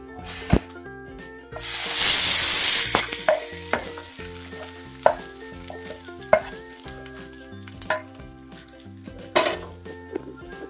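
Hot tempering (tadka) is poured into pav bhaji masala, setting off a loud burst of sizzling that fades over a second or two, followed by scattered clinks and scrapes of a spoon stirring in the pan.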